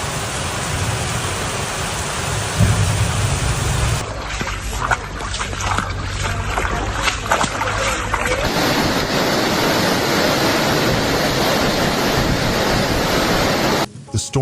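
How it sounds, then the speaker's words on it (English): Torrential rain during a violent storm in Catalonia, Spain, falling at over two inches in half an hour and overwhelming old drains: a loud, constant roaring wash of water that shifts in character twice and cuts out abruptly near the end. "Rain came down at a rate of over 2 inches in just half an hour, overwhelming outdated drains."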